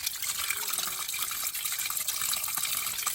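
Water from a natural source runs into a bottle being filled, a continuous bright splashing trickle at close range, fairly soft and unbroken, with no talking over it.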